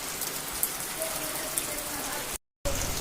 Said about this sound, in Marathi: बघू शकता की मस्त रिमझिम पाऊस पडतोय